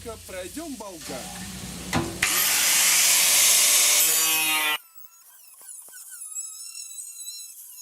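A grinder cuts around the perimeter of a pressed metal part on a Uralchik, a loud, steady, harsh rasping whine lasting a few seconds after some preliminary handling noises, then cutting off abruptly to leave faint ringing and clatter.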